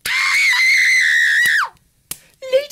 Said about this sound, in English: From outside in the garden, a scream rent the air.